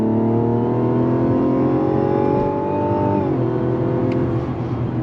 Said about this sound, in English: getting on the highway on throttle, 8-speed drops down and we're off.